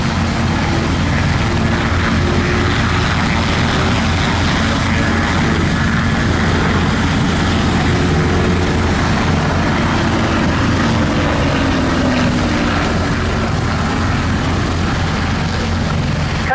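A Hawker Hurricane Mark IIc propeller fighter in all-black night fighter colours flies at an RAF Cosford air show, a loud sustained engine roar that holds steady throughout with no talking.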